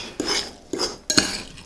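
A utensil mixes tuna, salsa and rice together in a dish, close up. Three short scraping, clinking strokes against the container come about half a second apart, with no talking.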